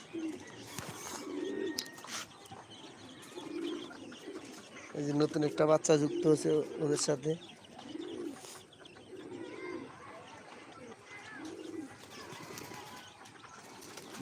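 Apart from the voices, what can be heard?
pigeons cooing after being released in the afternoon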